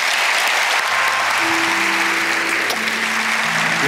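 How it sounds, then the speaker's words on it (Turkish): A studio audience claps steadily and loudly for the whole stretch, a dense, even wash of applause with no voices standing out. "O zaman büyük alkışlar."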